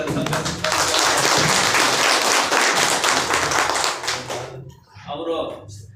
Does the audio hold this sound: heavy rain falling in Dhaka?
no